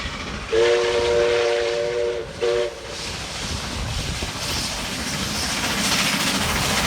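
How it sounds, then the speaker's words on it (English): Steam locomotive 5917 passing on its way to Singleton during Hunter Valley Steamfest: two loud chime-whistle blasts, a long one then a short one, over the steady roar and rumble of the train going by. "we see 5917 storming through on its way to Singleton."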